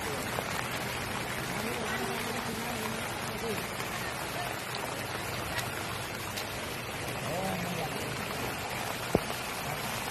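Steady heavy rain pours down at the Pathalaganga steps in a dense, unbroken hiss, with a faint voice or two buried underneath and no pauses.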